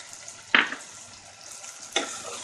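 Potatoes frying with spices in a pan and being stirred, a soft steady sizzle broken by two sharp scraping strokes of the spoon, quiet and close, with no voices.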